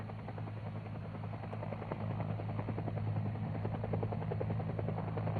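A U.S. Air Force UH-1 helicopter from 1970 tactical operations gives a steady, loud rotor and engine drone with a continuous low throb that holds unbroken throughout, with no voices over it.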